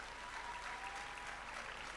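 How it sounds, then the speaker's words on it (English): Audience applause at a youth empowerment week event, a steady, even wash of many hands clapping, heard faint and distant throughout. "Let's give them a round of applause."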